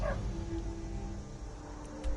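A talking dog in Skyrim gives a short bark and yip, then whimpers faintly over a steady low in-game background hum. No one speaks.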